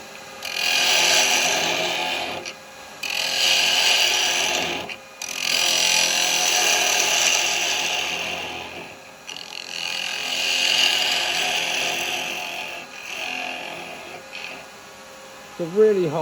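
A lathe tool cuts into a small piece of very hard wood, making a scraping, rushing cutting sound in several long bursts separated by short pauses over a steady machine hum.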